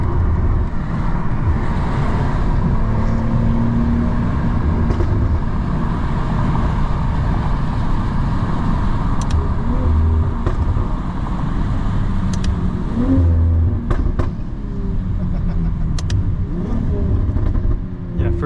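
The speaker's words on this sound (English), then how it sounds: "first gear wants to lurch forward." A BMW M340i xDrive with a custom XHP tune accelerates with a steady, loud engine drone heard from inside the car, with a slight rise in pitch and a few clicks near the end.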